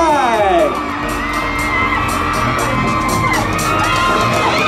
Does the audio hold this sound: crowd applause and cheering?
yes